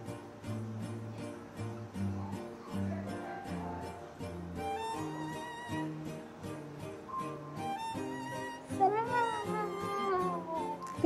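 A cat meows repeatedly at a cat and capybara cafe, the calls rising over steady background music with harmonic tones throughout and a busy indoor backdrop.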